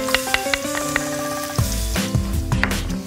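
Chopped garlic, green onion and chili stir-fry in a pan, a moderate sizzle broken by quick scraping and tapping of a utensil, with the sizzle growing fuller toward the end and no talk.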